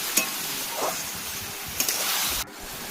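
Ash gourd with salt being stirred in a pan, a soft steady frying hiss with a few faint scrapes of the spoon, fairly quiet and cut off abruptly near the end.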